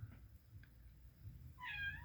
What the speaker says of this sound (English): Sorry if you can hear my cat in the back.